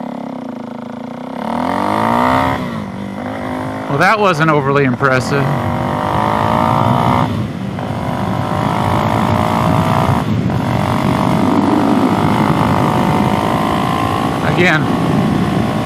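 A brand-new DRZ400SM motorcycle fitted with a knock-off FCR 39 carburetor and full exhaust revs in several quick, rising bursts, then settles into a loud, rough running drone while someone talks over it.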